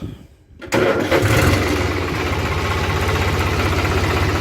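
A 3630 tractor engine coughs briefly, then starts and settles into a loud, steady, close rumbling run with a rhythmic low-pitched chug and no talking.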